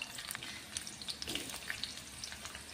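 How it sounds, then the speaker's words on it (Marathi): Thick-cut onion slices frying in oil in a pan, a fine constant sizzle with scattered crisp pops, fairly quiet. "तर तेही तेलावरती आपल्याला व्यवस्थित परतून घ्यायचे आहेत।"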